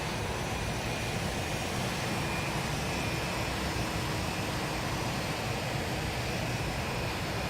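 Jet engines of an airliner in the X-Plane 11 flight simulator game produce a steady, even broadband roar and whine that holds constant throughout, fairly quiet and with no talking.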